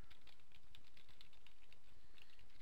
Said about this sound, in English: by typing in a bit of extra text after the search in the address bar